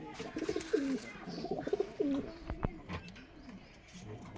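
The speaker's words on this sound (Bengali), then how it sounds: "অনেক বড় সাইজের কবুতর, গিরিবাজ কবুতর, রাজশাহীর গিরিবাজ" Large Giribaz pigeons from Rajshahi, including a white-eyed male, coo in a series of soft throaty calls near at hand, with a brief sharp knock partway through and no talk.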